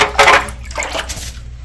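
Raw perilla seeds are swished and rubbed in water, giving short close splashing and sloshing bursts with quieter watery rustles between.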